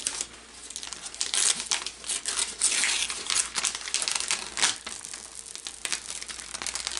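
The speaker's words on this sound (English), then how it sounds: "I'm just going to grab a hold of the corner with where the paper is and gently peel the paper away from the material" Paper backing peeled away from heat-bonded cotton fabric gives a close, continuous crinkling and tearing rustle lasting several seconds, with no talking.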